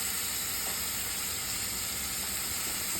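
Tomatoes sautéing in a pan for rava kichadi give a steady, close sizzle and hiss with no break or speech over it.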